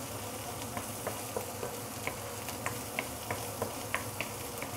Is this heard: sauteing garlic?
yes